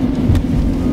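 Car in motion around Montreal, heard from inside the cabin: a steady low engine and road rumble, loud and close, with no talking.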